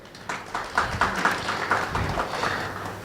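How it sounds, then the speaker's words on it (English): A round of applause at a legal education event, with a crowd clapping steadily at moderate volume throughout and scattered louder hand claps rising and falling. "Can we give him a round of applause?"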